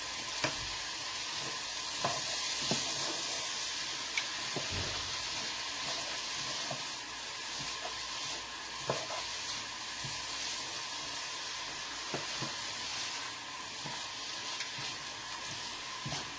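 Cut vegetables sizzle and hiss steadily in a hot pan for a quick stir fry, with occasional clicks and scrapes of stirring over a constant frying roar and no talking.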